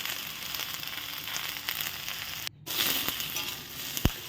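Ridge gourd and potato fry in oil with panch phoron and a dried red chilli, giving a steady close sizzle and crackle. It cuts out for a moment, comes back, and ends on a sharp knock near the close.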